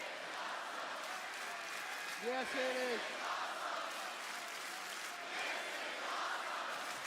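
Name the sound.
arena crowd cheering and applause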